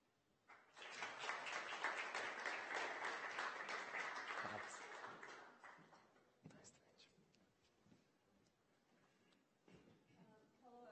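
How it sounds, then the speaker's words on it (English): Conference audience at a Vilnius fintech event applauds the first speaker, clapping swelling quickly, holding for several seconds, then fading out into scattered claps and quiet room noise. "give a huge round of applause to our first speaker, Ieva Vyšniauskaitė"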